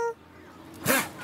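A lion gives a short, breathy sneeze after a brief moment of quiet, close and fairly loud, at Taigan lion park.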